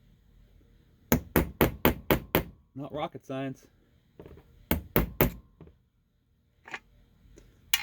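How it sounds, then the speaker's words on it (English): Hammer taps a punch to push firing pin dents out of small pistol primers, a run of seven quick sharp metallic taps, then a voice talks briefly, then three more taps and a single later tap, all close. "Proper size punch, a couple taps with a hammer"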